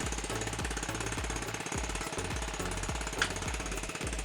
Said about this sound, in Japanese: アイドリングも安定しています。